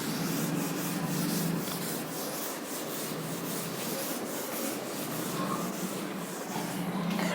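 A writing board being rubbed clean during a physics lecture on electric dipoles, giving a steady, continuous scratchy rubbing with repeated back-and-forth strokes, fairly close and alone with no talk.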